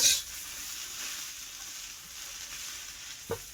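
Four green chilies roasting in a hot pan give a soft, steady sizzle, with a short clatter near the start and a single brief tap toward the end.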